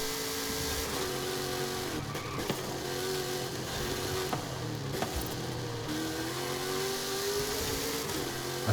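A Koenigsegg supercar engine in the racing video game Forza Horizon 5 roars continuously. Its pitch climbs and falls through gear changes, with a few sharp clunks, and no one talks.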